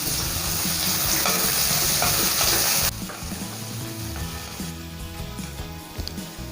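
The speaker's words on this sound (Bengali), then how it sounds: "প্রথমে আমি কড়াইতে দিয়ে দিচ্ছি সাদা তেল। তেলের মধ্যে দিয়ে দিচ্ছি কুচি করে রাখা পেঁয়াজ" Chopped onion sizzles in white oil in a kadai, a loud crackling fry that drops to a quieter steady sizzle with occasional stirring scrapes.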